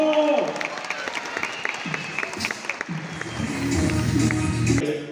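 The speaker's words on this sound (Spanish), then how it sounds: "aplausos!" Crowd applause at a magic festival show, scattered clapping mixed with voices and a presenter talking over it, growing louder toward the end.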